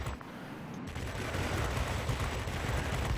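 Aircraft guns on an XF-90 heavy fighter in World of Warplanes rattle in a rapid, continuous burst after a brief lull, a dense loud volley of gunfire that runs steadily to the end.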